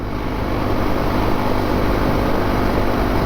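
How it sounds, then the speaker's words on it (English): A 2019 Honda CRF450L motorcycle engine holds a steady, loud drone at high revs around 60 mph, with heavy rumble and wind noise, without rising or falling. "I feel like I'm revving the piss out of it."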